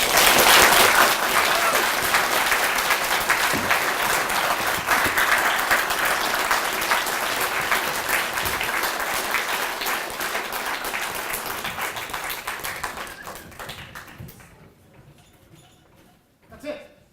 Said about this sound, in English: give another round of applause for all the speakers tonight